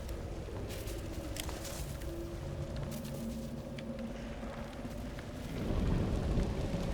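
Steady rain falls across an outdoor area in Atomfall, a broad even wash of patter with occasional thunder-like rumble swelling toward the end, no voices over it.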